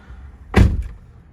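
A single solid thud as the door of a Toyota Camry Hybrid XLE sedan is shut, close and loud against a quiet background.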